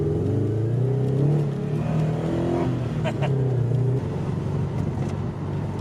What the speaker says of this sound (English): It's got that rumble because of the headers.